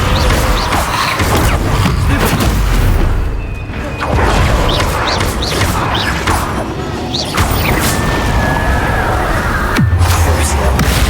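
Repeated heavy magical spell impacts, slamming booms and crashes in a Hogwarts Legacy battle, arriving in a dense, loud barrage with swishes and clatter throughout.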